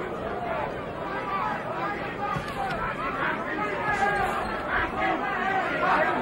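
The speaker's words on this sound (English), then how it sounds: "Crowd booing the tactics of Tony Tucker" Boxing arena crowd at the 1987 Mike Tyson vs Tony Tucker heavyweight title fight, a continuous loud roar of chatter and jeering voices filling the hall with a steady swelling hubbub.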